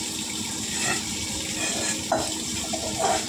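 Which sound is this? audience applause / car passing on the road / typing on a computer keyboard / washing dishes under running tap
washing dishes under running tap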